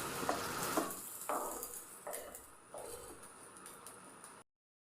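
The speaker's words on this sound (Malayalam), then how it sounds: "ഇതാ നമ്മൾ ചമ്മന്തിയിലേക്കുള്ള കടുക് താളിച്ചെടുത്തിട്ടുണ്ട് രണ്ട് ടേബിൾ സ്പൂണ് വെളിച്ചെണ്ണ കടുക് കറിവേപ്പില" Mustard seeds and curry leaves tempering in two tablespoons of coconut oil for a chutney, with a steady sizzle broken by a handful of sharp pops and crackles before a sudden cutoff to silence.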